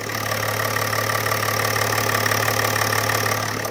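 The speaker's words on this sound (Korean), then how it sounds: "엔진음 들려드릴게요" A BMW 7 Series (newer body, M Sport) engine idles steadily with a low, even hum and no change in revs, close by and continuous throughout.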